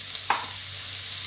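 Garlic frying in fresh cooking oil, a steady soft sizzle with one brief scrape or stir partway through.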